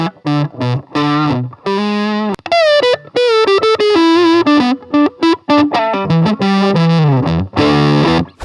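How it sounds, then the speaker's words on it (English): Electric guitar run through a tuna-can fuzz pedal, giving a thick, woolly, furry distorted tone as a loud melodic phrase of sustained bent notes and short choppy bursts, played alone. "We got the tuna fuzz."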